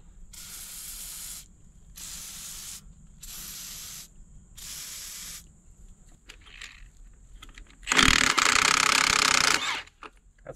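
Penetrating oil sprayed from a can onto rusty lug nuts of a crane truck: four even hissing bursts with short gaps, then a longer, louder spray burst after a brief pause.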